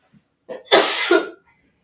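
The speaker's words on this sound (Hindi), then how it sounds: "थोड़ी खांसी हो रही है" A single close, harsh cough, a short rough burst followed by a second push, heard alone against silence.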